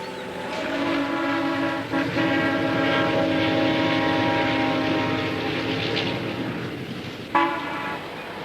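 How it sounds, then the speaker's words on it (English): A train rolls past in a steady, loud rumble, its horn sounding a sustained chord for most of the pass and blasting again briefly near the end, on a rail line in the frontier town of Kissimmee. "Except the morning train to Tampa."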